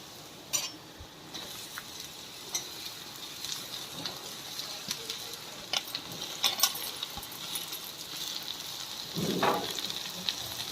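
Ivy gourd (dondakaya) frying in a pan, with a soft, continuous sizzle and occasional light clinks of a spatula or spoon stirring against the pan, fairly quiet and with no talking.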